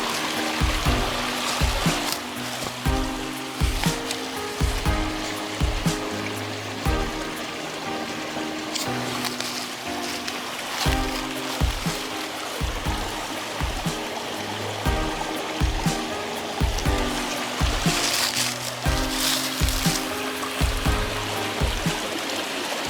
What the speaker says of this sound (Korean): 계곡 물소리와 함께